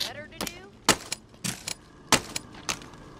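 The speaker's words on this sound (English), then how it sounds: "I'm gonna hear gunshots." Several sharp, punchy gunshots from The Walking Dead: Saints and Sinners, spaced irregularly, with faint chatter and effects in the background.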